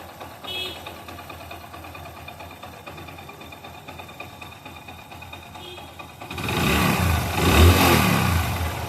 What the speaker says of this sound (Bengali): তো দেখুন বাইকটার সাউন্ড একদম নতুনের মতো হয়ে গেছে